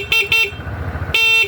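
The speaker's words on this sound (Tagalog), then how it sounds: "Ito, yung sound ng ng busina." Two short horn beeps in quick succession, then a third honk after a pause, loud and close over a low engine idle of a Euro Falcon 180i motorcycle.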